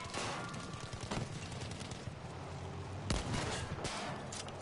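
Gun firing in Battlefield V, a powerful weapon discharging several sharp, loud shots at irregular intervals, each crack followed by a rumbling tail over a constant low battlefield drone.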